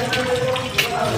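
Water runs steadily from a tap at a hostel in Alirajpur, a continuous close hissing stream with a brief splashy surge partway through.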